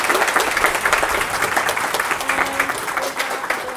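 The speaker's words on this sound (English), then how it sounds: "I would love to congratulate you, so round of applause." An audience breaks into sustained applause at the end of a professor's lecture, a dense, even wash of many hands clapping with faint voices mixed beneath.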